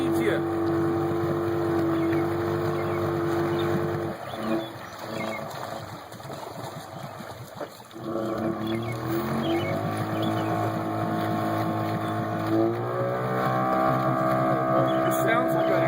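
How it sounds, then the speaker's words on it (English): An outboard motor on a small boat in a pond, a whining buzzing engine tone that rises and falls in pitch, dipping briefly midway, with people talking over it. "It sounds like an outboard."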